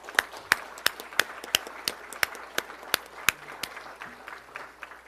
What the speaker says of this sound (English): I'd like everyone here right now to give her a hearty round of applause